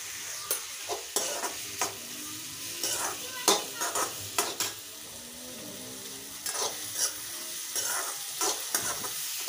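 Vegetables with turmeric, including peas, capsicum and cabbage, are stirred and sautéed in a pan for a tawa pulao, with a low steady sizzle beneath repeated scraping strokes of a spatula, close up and without speech.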